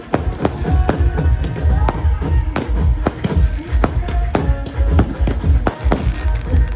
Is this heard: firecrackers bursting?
yes